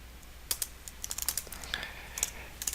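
A computer keyboard clatters as a network router command is typed, a quick irregular run of close, crisp keystrokes over a low hum, with no talking.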